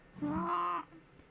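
A single crow gives one drawn-out, nasal caw lasting about half a second. It is fairly faint and stands alone against quiet background noise.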